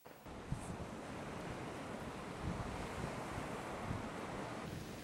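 Wind blowing on a tropical island beach, a steady close roar buffeting the microphone with the wash of surf underneath, sustained and fairly even throughout.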